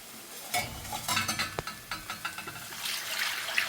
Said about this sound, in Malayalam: അതിലേക്ക് നമുക്ക് വെള്ളം ഒഴിച്ച് വെക്കാം.